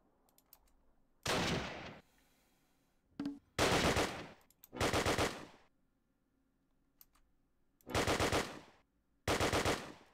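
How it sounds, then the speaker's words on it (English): Machine-gun fire in the World War II strategy game Close Combat Last Stand Arnhem, several sharp, dense bursts of about a second each with short gaps between them, loud and alone. "He's firing blind."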